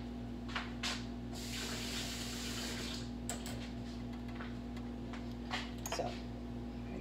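Water runs steadily under a faint hum while something is rinsed off in a kitchen, with a few soft splashes and clatters scattered through.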